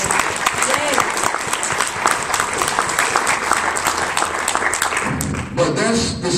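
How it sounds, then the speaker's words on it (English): An audience applauds at a morning program event, steady dense clapping filling the whole stretch at close range, tapering slightly near the end. "Give yourselves a round of applause."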